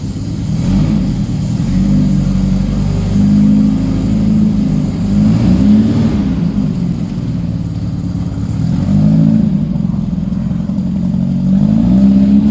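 An air-cooled engine from a 1974 VW Beetle runs loud and close, rising and falling in repeated revs as the car pulls away on a road test, with no talk.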